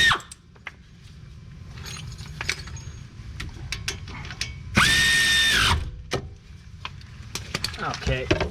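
Hand ratchet clicking as bolts are tightened on the front hub of a 2013 Chevy Impala, light irregular clicks up close, with one louder burst of mechanical whirring partway through.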